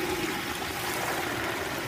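A whole turkey sizzles in a pot of hot frying oil filled to the line, a soft, even, continuous hiss and crackle heard faintly and alone.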